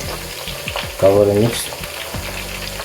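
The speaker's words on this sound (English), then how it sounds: "Remember, it's frying." Chicken wings fry in a double pan, a steady crackling sizzle running throughout, swelling louder for a moment midway, with a brief spoken phrase near the start.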